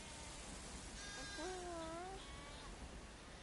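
A single sheep bleat from The Last of Us Part II, a wavering drawn-out call lasting under a second, is heard fairly faintly over quiet ambient game hiss.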